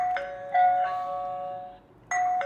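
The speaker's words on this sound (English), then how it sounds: "when I press doorbell button" A Zilink Cobell HD wifi doorbell plays its chime after the button is pressed: two clear electronic tone pairs, close and fairly loud, a brief pause, then the chime starts again at the end.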